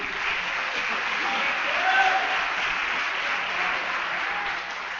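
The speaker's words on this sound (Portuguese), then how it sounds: "Dê um aplauso de novo a Ele" Church congregation applause during a sermon, a sustained wash of clapping from many hands at moderate level, steady throughout with faint voices mixed in.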